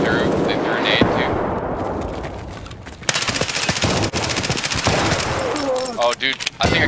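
Rapid automatic gunfire bursts and sharp shots from the Escape from Tarkov video game on the Factory map, loud and dense, with several overlapping volleys and voices talking among them.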